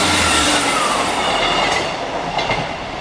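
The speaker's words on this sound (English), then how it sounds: "This is a big train." A big two-coach passenger train rolls past a level crossing in Southampton, loud and close, with a steady roar of wheels on rail and faint clicks as the carriages go by.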